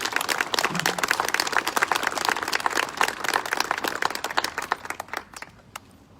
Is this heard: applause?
yes